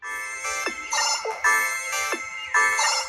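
A custom ringtone playing on a Nothing Phone 3a: a loud, bright electronic melody of repeating tonal phrases with short gaps, heard close and clear with no voices.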